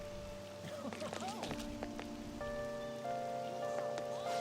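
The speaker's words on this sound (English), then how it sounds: "It's raining." Rain falls in Persona 5 Royal, a soft steady patter under sustained musical tones and chimes, with spoken voices over it.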